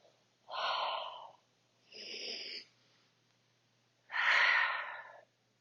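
Three deep, forceful breaths taken during a back-strengthening exercise routine, each a loud rushing exhale about a second long, close to the mic with short pauses between and no talking.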